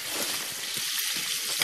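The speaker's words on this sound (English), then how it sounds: "Right, that's what we got sizzling." Meat and onion frying in a pan over a campfire outdoors in a forest, a dense, steady hiss and crackle of sizzling fat that stays even throughout, with faint pops and low rumbles beneath.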